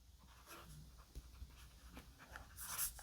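Stylus writing on a Kindle Scribe e-ink screen, giving soft, faint scratchy strokes in short bursts over a quiet room, with a dog panting and moving nearby.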